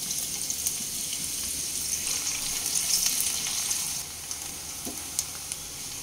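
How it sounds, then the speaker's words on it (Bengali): Chopped onions frying in mustard oil in a pan with cardamom, cloves, cinnamon and a bay leaf, giving a steady broadband sizzle that stays level throughout, with a slight dip near the end. "পেঁয়াজের কালার একটু চেঞ্জ হয়ে আসা পর্যন্ত ভেজে নিয়েছি"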